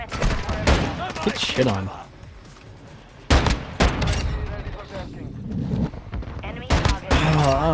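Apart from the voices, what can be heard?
gunfire in video game Call of Duty Modern Warfare 2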